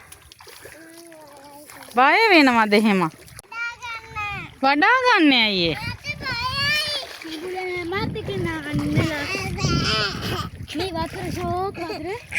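Water splashes and churns as someone wades through it, mixed with excited children's voices talking and calling out close by.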